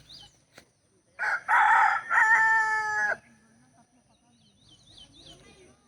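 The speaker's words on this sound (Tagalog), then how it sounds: "may manok pang umakyat muna doon bago tumilaok" A rooster crows once in the middle, a loud, clear cock-a-doodle-doo lasting about two seconds after a short lead-in, with quiet rural background before and after.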